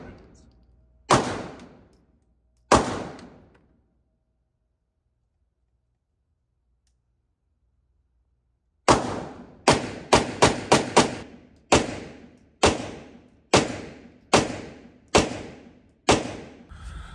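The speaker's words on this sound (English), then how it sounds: "Another gentleman here at the gun range, shooting 10 rounds." DS 1911 pistol fired at a gun range: two sharp, loud reports, a long pause, then a rapid run of shots and several more evenly spaced ones, each ringing out close.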